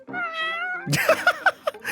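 A cat meows in the inZOI video game, a short run of close, distinct meows following a brief tonal game sound at the start.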